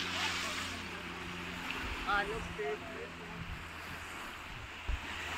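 Sea waves wash steadily onto a beach, a continuous broad surf roar mixed with wind buffeting the microphone, with a faint higher-pitched sound briefly audible midway.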